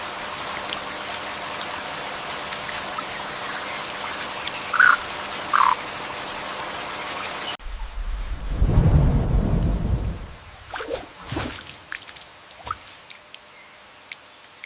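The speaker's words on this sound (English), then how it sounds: "rain begins to fall" Rain falls steadily in the Amazon jungle with a couple of bird calls, then a deep roll of thunder swells and fades, followed by scattered dripping and further rain, all moderately loud and without talk.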